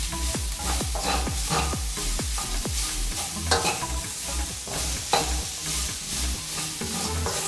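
Broccoli leaves, stems and crowns stir-fried with shrimp in a hot pan, a steady loud sizzle with repeated scraping stirs throughout, no talking.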